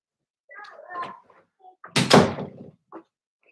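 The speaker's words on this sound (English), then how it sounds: "I'm gonna shut the door." A door is shut with a single solid thud and rattle, close by, after some brief muffled sounds.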